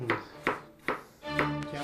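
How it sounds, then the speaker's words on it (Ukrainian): Garlic sliced thinly on a cutting board while cooking squash blossoms and chicken wings with beer, giving four sharp knife chops in an uneven rhythm, close and clear, with kitchen background hum between strokes. "Зараз нарізаємо часник на тоненькі шматочки."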